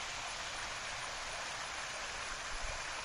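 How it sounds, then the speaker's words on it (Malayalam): A rainy-season stream flows nearby as a steady, even rush of water with no breaks, heard alone with no voices. "മഴക്കാലമാണ് കേട്ടോ, ഒരു അരുവി ഇവിടെ ഒഴുകുന്നുണ്ട്"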